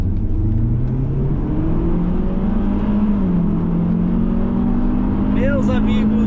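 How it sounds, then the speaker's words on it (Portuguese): A Mitsubishi Lancer Ralliart with about 250 horsepower accelerating hard: a loud, steady engine drone that climbs slowly in pitch for several seconds, heard from inside the car. "Mas o legal mesmo de um carro desses é acelerar. Então vamos aproveitar a oportunidade e pisar fundo."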